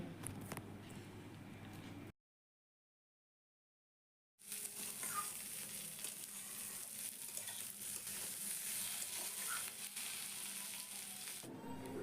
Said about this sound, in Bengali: এবার ডালের মধ্যে দিয়ে দেবো চিড়ে রাখা কাঁচা লঙ্কা আর দেবো টমেটো কুচি আবারও সব কিছুকে খুব ভালো করে ভেজে নেবো